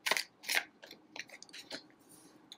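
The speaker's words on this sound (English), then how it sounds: "I'm going to shuffle some more cards and see what comes through" Tarot cards being shuffled by hand in a quiet room: a few crisp, papery riffling bursts and soft slaps, with no talking.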